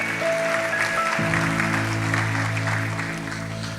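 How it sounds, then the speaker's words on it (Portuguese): A church congregation applauds at an evening worship service, a dense wash of clapping mixed with held tones from music, loud and continuous for a few seconds. "Você pode aplaudir o nome de Jesus aí no seu lugar?"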